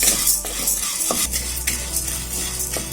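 Urad dal and chana dal roast dry in a pan while being stirred, with intermittent metal scrapes and light rattles over a steady low hum.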